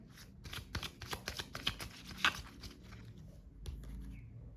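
Soft, rapid riffling of tarot cards being shuffled, a quick flurry of crisp flicks, close and quiet, with no talking.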